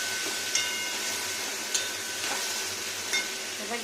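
Mustard seeds, cumin and green chillies fry in hot oil with a steady, close sizzle and occasional sharp pops and crackles.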